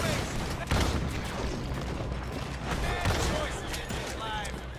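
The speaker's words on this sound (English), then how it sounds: "Double barrel shotgun for the win!" Double-barrel shotgun fire in the Western video game Red Dead Redemption 2, with loud booming blasts amid dense, continuous game noise and commotion.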